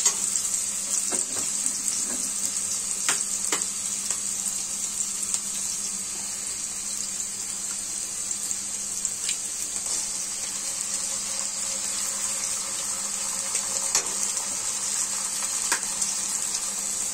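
Onions and eggs frying together in a pan give a steady, close sizzle with occasional sharp clicks and scrapes from stirring. No one talks.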